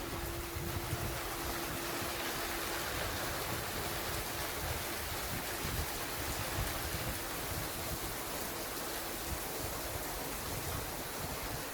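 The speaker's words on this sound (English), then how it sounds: "Trying to find a spot here where the wind isn't pushing the rain that much against my device here." Steady rain hisses with wind buffeting during a thunderstorm in Montreal's Saint-Henri sector, a constant broadband roar with no pauses and no voices.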